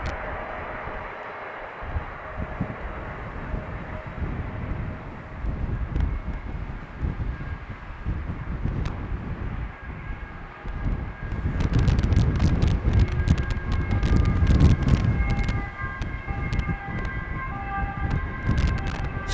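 Wind gusting across the open apron at Amsterdam Schiphol airport, a constant rumbling buffet on the microphone that grows louder and rougher in the second half, with a faint distant tone underneath.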